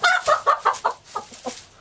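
Chickens cluck in a quick rhythmic run of short, close calls that trail off and soften toward the end, heard on their own without talk.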